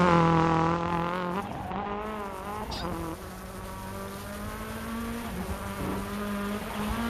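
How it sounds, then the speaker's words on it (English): A rally car engine in a racing video game wails at high revs while the car slides across a low-grip stage, a buzzing harmonic whine that wavers and dips as the throttle is feathered, steady and close. "Sliding the car just right."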